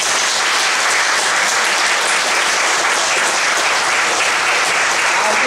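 An audience at a church gathering applauds with dense, continuous, loud hand clapping that fills the whole span without pause.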